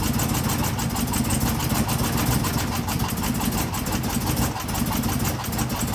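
A 2016 Chevrolet Camaro engine idles with a suspected cracked valve spring, a steady close-up rumble with a fine rapid ticking pulse running through it, even and unbroken throughout.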